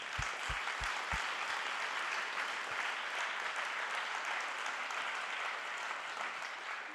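A conference audience at a green finance summit claps steadily, a dense, even roar of applause that holds for the whole clip, with a few low thumps near the start.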